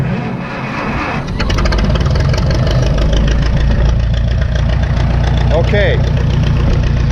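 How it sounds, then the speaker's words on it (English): A 1952 McCormick Super WD-6 tractor engine runs steadily on straight gasoline, a loud, close, even idle with a deep rumble that stays level throughout, with a brief spoken word over it. "Now that's running on straight gasoline now."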